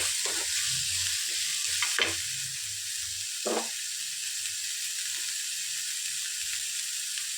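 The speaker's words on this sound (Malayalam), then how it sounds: "സവോള ഇട്ട് ജസ്റ്റ് ഒന്നിങ്ങനെ വഴണ്ട് വന്നിട്ട് കുറച്ച് ഉപ്പ് ചേർത്ത് കൊടുക്കണേ" Chopped onions with a pinch of salt sauté in a hot pan, giving a steady quiet sizzle and hiss with a few soft stirring scrapes, heard close with no talking.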